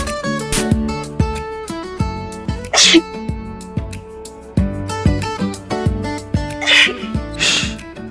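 Sneezes occur in a Hindi TV drama scene, with two sharp bursts at different moments over background music, fairly loud and close.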